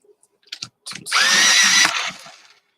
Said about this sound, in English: you will occasionally hear the sound of a drill, which is just the pencil sharpener